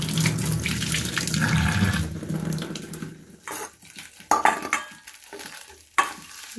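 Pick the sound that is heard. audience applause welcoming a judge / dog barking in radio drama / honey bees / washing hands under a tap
washing hands under a tap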